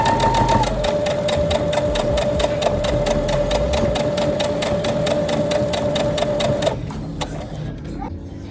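A Brother SE1900 sewing machine stitching a minky baby blanket runs in a fast, even stream of needle clatter, close and steady for several seconds before abruptly stopping, leaving a quieter hum.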